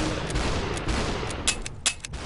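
Gunfire in the video game Superhot, a few sharp, brief shots popping out of a steady background hiss, loud and close.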